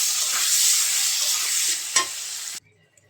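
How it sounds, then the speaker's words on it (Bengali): A cut potato frying in hot oil, a loud, steady close sizzle that goes on for about two and a half seconds, with a brief knock near the end before it stops abruptly. "একটা আলুও কেটে দিয়ে দিলাম তেলের মধ্যে ভাজার জন্য আলুটা ভাজি দিয়ে দিলাম"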